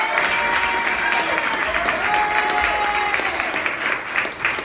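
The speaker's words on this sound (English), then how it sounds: "please give my wife a round of applause." An audience at a poetry reading at The World Stage breaks into steady, dense applause that holds loud and even throughout, with faint voices and cheers mixed into the clapping.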